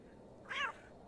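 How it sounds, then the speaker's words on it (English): A cat named Herbert gives a single short meow in the adventure game The Excavation of Hob's Barrows, a bright, close call of about a quarter second over a quiet background hum. "Oh, Kitty!"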